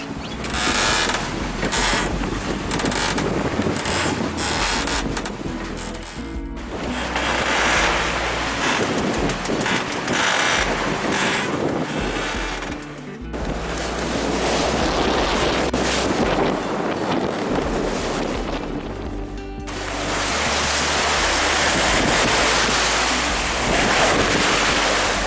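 Constant rushing ocean waves and heavy wind buffet a sailboat sailing upwind toward Luperon, with loud, steady surf noise and wind roar filling the whole stretch with no talk.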